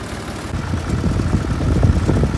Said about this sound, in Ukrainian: татко вже на тракторі їде, я на возику сижу і отак от їдемо